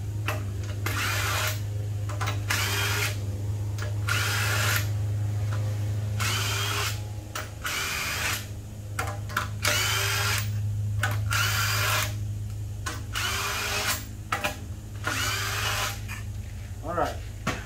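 A power tool spins out head bolts on a Honda K-series K20/K24 engine during head removal, firing in short repeated whirring bursts, about a dozen over the span, with pauses between and a steady low hum underneath.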